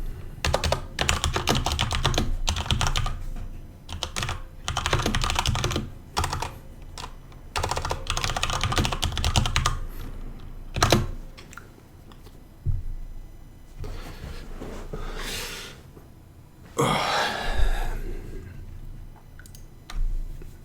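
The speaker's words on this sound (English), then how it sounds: "this is a mechanical keyboard. I love mechanical keyboards" Typing on a mechanical computer keyboard during a live writing session of a Chinese fantasy novel: rapid, clacky bursts of keystrokes close up, broken by short pauses and a few isolated heavy key presses.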